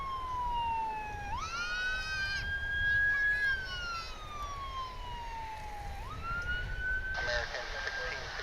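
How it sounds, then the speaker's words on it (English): An ambulance siren wails steadily near an airport runway, its rising and falling tone sweeping slowly over a constant background rumble. "you probably hear an ambulance"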